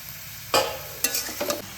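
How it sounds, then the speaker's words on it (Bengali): Chopped onion stalks drop into spiced oil over high flame and burst into a loud crackling sizzle, followed by a couple of further scraping, stirring surges, close up and without speech. "এবার আমি কেটে রাখা পেঁয়াজ কলিগুলোকে এর মধ্যে দিয়ে দেব।"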